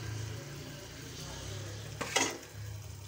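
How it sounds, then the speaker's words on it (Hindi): Onions frying in a pot for potato and meat gosht, a steady soft sizzle with a brief scrape of a spoon against the pot partway through. "इसको भूनेंगे हम अच्छी तरीके से अपनी प्याज ऐड करके"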